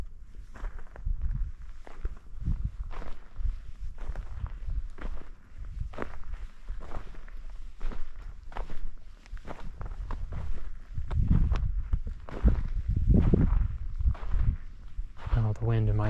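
Footsteps walk across sand dunes in the wind, a regular run of soft crunching steps close by over a low, gusty wind rush, growing heavier near the end.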